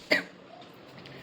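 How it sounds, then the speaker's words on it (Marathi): A single short, sharp cough bursts out at home, followed by quiet room tone. "मला खोकला येतं ना"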